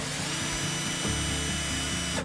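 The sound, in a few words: power drill taking out screws in van bed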